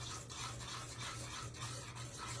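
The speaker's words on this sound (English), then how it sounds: "we're going to bring this to a boil, stirring it constantly till it comes to a boil" A spoon scrapes and swirls steadily through chocolate gravy in a pot on the stove, a soft continuous rubbing at close range that comes and goes with each stroke, no talking.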